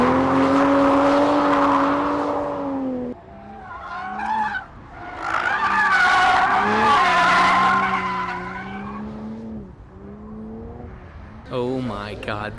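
A new Toyota Supra sliding sideways through an S-shaped corkscrew turn during a track day, loud sustained tire squeal with wavering pitch rising and falling alongside the engine, briefly easing then returning, with talk inside the car.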